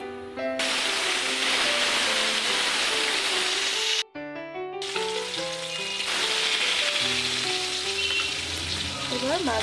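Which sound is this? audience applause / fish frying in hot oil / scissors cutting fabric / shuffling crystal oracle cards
fish frying in hot oil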